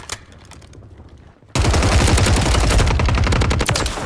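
Rapid automatic gunfire in Warzone 3, a loud dense burst of shots that starts abruptly after a quiet stretch and keeps rattling for more than two seconds, close and dominant with no talk over it.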